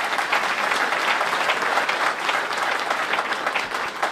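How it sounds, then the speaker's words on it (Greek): Steady applause from an audience at a church seminar hall, dense continuous clapping filling the room for several seconds with no voices over it. "Παρακαλώ να χειροκρότημα."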